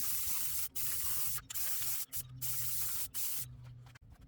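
Rust-Oleum bed liner paint spraying from an aerosol can, a steady close hiss in several bursts separated by brief pauses, with no voices.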